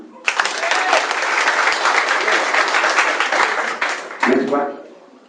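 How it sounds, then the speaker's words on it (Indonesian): An audience at a charity event bursts into loud, dense applause that holds steady for about four seconds, then fades as a voice begins speaking. "Tepuk tangan."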